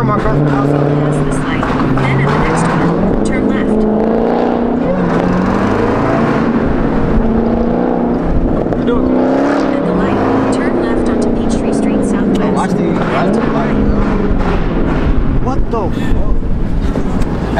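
A powerful 1000 hp Jeep Trackhawk engine revs and roars past, rising and falling in pitch, with wind buffeting the microphone and people talking over it.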